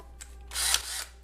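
A cordless drill fitted with a unibit gives a single short whirring burst of about half a second, close and fairly loud, in a quiet workshop with no talking.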